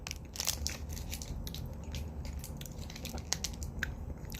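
Close, crisp crunching and biting on a dark chocolate-coated date with almond, continuous chewing and crushing textures with no talking.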